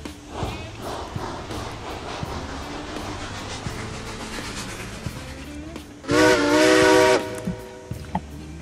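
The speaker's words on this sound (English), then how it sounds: "Love that whistle." Steam locomotive whistle in the train game Railroads Online, one loud sustained blast near the end after steady engine chuffing and hiss, with brief talk earlier.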